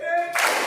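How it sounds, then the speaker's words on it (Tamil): Hand clapping during a group well-being exercise, a sudden burst of claps breaking in after a sung tonal voice, close and fairly loud. "சந்தோஷமாயிருந்தா கைத்தட்டு"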